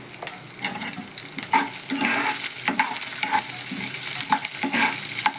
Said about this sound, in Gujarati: અને આ મરચાં નાખી દઈશું.